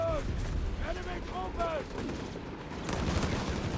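Mortar fire in the strategy game Company of Heroes 3 thuds and booms repeatedly beneath a dense wash of battle noise, with voices and tonal game sounds mixed in throughout.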